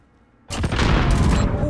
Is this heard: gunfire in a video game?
yes